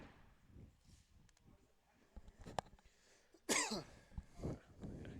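A few sharp coughs and throat noises in a quiet room, with one louder burst near the end and faint voices murmuring around them.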